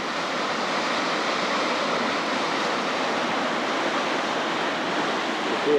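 Water rushes out through the Lime Valley Mill dam in Lancaster, Pennsylvania, a steady, loud, broadband roar that holds constant throughout with no voices.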